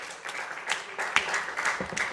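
Applause from an audience at a Nigerian private medical association's award and dinner night, greeting the health commissioner's representative; a brief, steady patter of clapping lasting about two seconds with a few sharper claps standing out.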